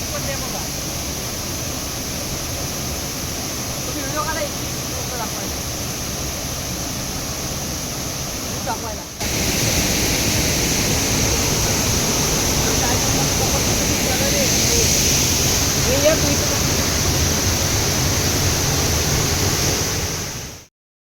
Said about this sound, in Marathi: पाणी पडतंय त्याचा किती मोठ्याने आवाज येतोय